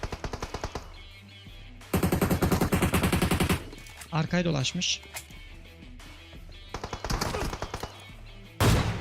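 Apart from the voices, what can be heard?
gunfire in the video game PUBG Mobile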